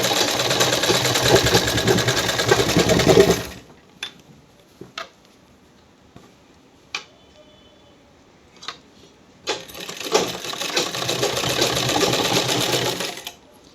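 Domestic sewing machine stitching seams on an A-line suit, a steady close rattling whir for a few seconds, then stops with scattered clicks and handling taps before running again just as steadily.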